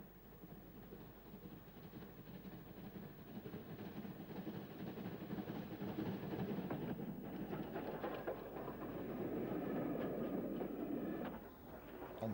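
Steam locomotive 34086 219 Squadron hauling a troop special train, a steady low rumble of running gear that builds gradually and stays loud, with faint clicking over the rails.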